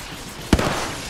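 A single sharp gunshot in the battle royale game Apex Legends Mobile, one brief loud crack with a short echoing tail over a quiet background.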